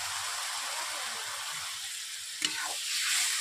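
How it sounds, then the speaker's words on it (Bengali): Frying spices in a pan for a chicken dish give a steady, faint hiss, then a little water goes in with a sudden splash and the sizzle swells louder, all close by with no talk. "যেহেতু নিচে বসে আছে তার জন্য আমি অল্প করে জল দিয়ে দিচ্ছি"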